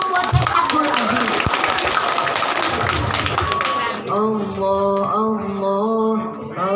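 A religious lecture audience claps for a sheikh, dense applause for about four seconds before it fades. A voice then takes over, speaking or chanting.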